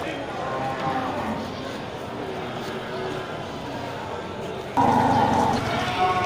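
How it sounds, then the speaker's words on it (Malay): Busy outdoor animal market at Gelompang Payung full of large cattle, a low jumble of crowd chatter and stirring livestock, with a sudden louder animal call rising near the end. "suasana di pasar hewan Gelompang Payung tanggal 11 Maret 2023"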